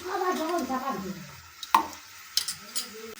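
Ginger paste going into lentils frying in a pot for vegetarian khichuri, with a soft sizzle, spoon stirring and a few sharp clinks against the metal over about three seconds.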